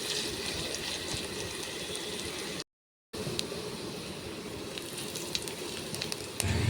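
Chopped onions sizzle and crackle in hot oil in a frying pan, a steady, close hiss that drops out briefly midway before resuming for evening snack samosa filling.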